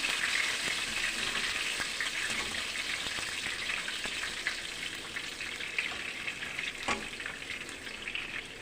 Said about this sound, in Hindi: पाँच से 6 जवे लहसुन के जिसे हमने बारी बारी चॉप कर लिए, ये भी हम इसको इसमें डाल देंगे।